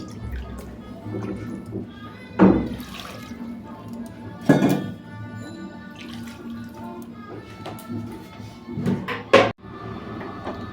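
Water poured into a pressure cooker after rinsing a bowl, for making ghugni: steady watery trickle and splashing with a few loud clanks of the bowl against the pot, near and fairly clear.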